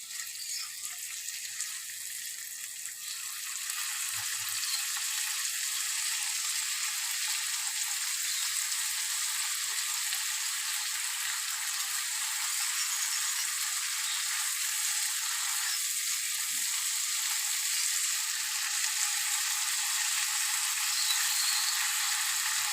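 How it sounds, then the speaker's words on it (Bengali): Cumin and chili powder fry in a pan in a steady, continuous sizzle that goes on for over twenty seconds, bright and even, with no talk over it. "আর ভালো করে আমি মশলাটাকে কষিয়ে নেব।"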